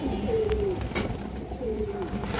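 Soft cooing from a Giribaz pigeon pair, a female among them, in a loft: two drawn-out, gently wavering coos about a second apart, close and moderately quiet over a steady low background hum.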